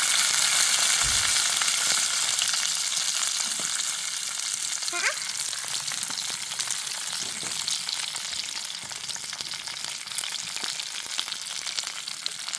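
Sliced okra fries in hot oil in a pan for a Telangana chutney, a loud, continuous bright sizzle with occasional scraping stirs and small clinks.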